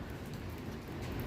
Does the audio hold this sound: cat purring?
no